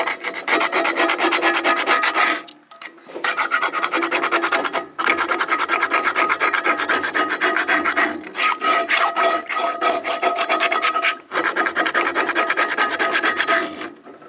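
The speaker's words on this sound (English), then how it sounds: "this will work the dirty bits off of your pan" A cast iron pan is scrubbed clean, steady coarse rasping strokes running in long bursts with a few short pauses between, loud and close.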